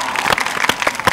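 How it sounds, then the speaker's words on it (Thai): A studio audience at a Thai television variety show applauds, a brief, dense burst of clapping that holds steady and fairly loud throughout. "ขอเสียงปรบมือให้จูน"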